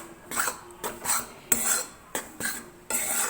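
Atta flour mixed with ghee is stirred in a pan with repeated rhythmic scraping strokes of a spoon against metal, about six clear passes, close and moderately quiet, with no talking.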